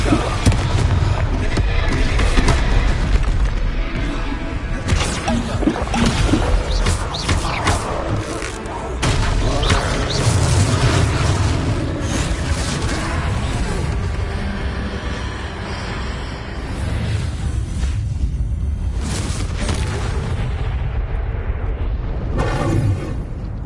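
Repeated fiery blasts from the Confringo spell during a troll fight in Hogwarts Legacy, a dense, loud stretch of booming bursts and thuds layered over game effects and occasional voices.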